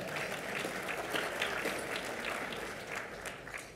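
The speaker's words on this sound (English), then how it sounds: "Can we have a round of applause for that one?" A luncheon audience at a parliamentary event gives a steady round of applause, a dense, even patter of many hands heard at a moderate distance and sustained throughout without talk over it.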